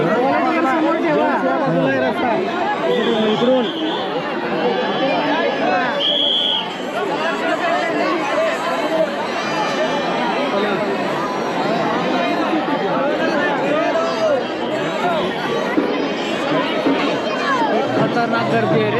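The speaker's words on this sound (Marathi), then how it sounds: "खतरनाक गर्दी आहे रे" Dense, steady crowd chatter fills a packed temple in Kolhapur, many voices overlapping at close range with no pause throughout.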